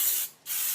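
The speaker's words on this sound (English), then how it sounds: "I prefer to use heavy duty silicone spray, and you spray the" Heavy duty silicone spray from an aerosol can is sprayed onto a tire in two close bursts, a sharp, loud hiss broken by a short pause.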